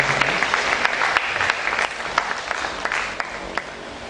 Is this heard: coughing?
no